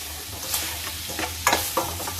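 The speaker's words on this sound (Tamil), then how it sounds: "இதெல்லாம் நல்லா கலந்து விட்டுடலாம்." Vegetables sizzle and fry in a pan for mor kuzhambu, a curd curry, as a spoon stirs them with a few scraping, clattering strokes over a steady crackle.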